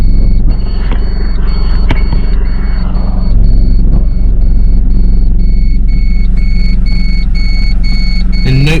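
A Mercedes W203 C-Class with a 722.6 automatic transmission idles in reverse with the brake held, a loud, steady low engine rumble close by, joined later by regular high electronic beeps.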